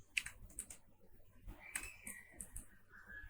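Keys tapped on a computer keyboard in short, uneven bursts of light clicks, close and fairly quiet, with no talking over them.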